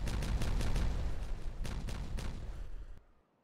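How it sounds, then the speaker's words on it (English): Dynamite blasts in the video game Timberborn, a loud dense series of booming detonations and crackling debris over about three seconds, then cutting off abruptly to near silence. "Ah, that's such a satisfying explosion."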